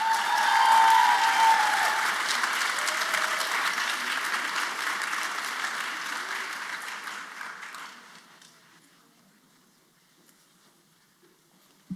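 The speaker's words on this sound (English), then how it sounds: "Let's give them one more round of applause." Warm applause from an audience at a first-generation student graduation celebration, loud at first with a whoop early on, then gradually thinning and fading out to near silence after about eight seconds.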